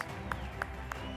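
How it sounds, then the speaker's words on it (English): Applause breaks out from the audience for the winners at the SANParks Kudu Awards ceremony, a faint, distant round of clapping with a few sharper claps standing out at a regular pace. "let's put a big Kudu Awards round of applause for all of the winners"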